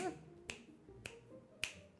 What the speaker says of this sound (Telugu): చిటికలు వేస్తూ కూర్చుంటాను